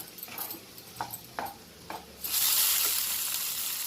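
Cooked rice being stirred into veg fried rice in a pan, with a few short scraping knocks of a spoon followed by a steady hissing sizzle that swells to fill the rest.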